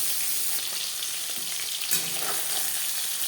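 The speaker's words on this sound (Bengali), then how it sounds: "মাছ আমি হালকা করেই ভেজে নিলাম।" Rohu fish pieces sizzle continuously in hot oil in a pan for Bengali doi mach, a steady, close crackle with faint stirring and no talk.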